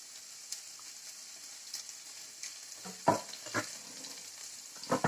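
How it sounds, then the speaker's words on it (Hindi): Onion and capsicum frying in oil in a pan, a soft steady sizzle with a few louder scraping stirs toward the end, close by and with no voices. "प्याज और साथ ही हम इसमें शिमला मिर्च डाल देंगे।"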